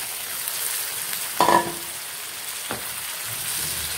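Liver masala with yogurt and spices cooking in a pan, giving a soft continuous sizzle with a couple of brief clinks or stirring knocks, close by and without speech.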